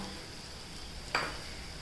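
A spice paste of garlic, ginger, green chili and coriander with turmeric and spice powders is stirred into frying green chickpeas and potatoes, giving a faint hiss and one brief scrape of the spoon.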